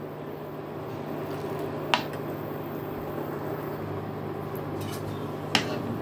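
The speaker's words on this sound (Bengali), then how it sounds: "এখন আমি এই চালটাকে খুব ভালো করে দুধের সাথে ফুটিয়ে চালটাকে সেদ্ধ করে নেব।" Rice simmering in milk for payesh gives a steady, soft bubbling hiss throughout, broken by two brief sharp pops from the pot.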